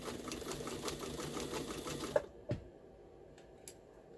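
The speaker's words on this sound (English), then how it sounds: "I don't think that you'll have any trouble sewing your upholstery material on this machine." A Pfaff 130 sewing machine stitches upholstery material in a fast, even rhythmic clatter for about two seconds, then stops, leaving a few faint clicks and knocks.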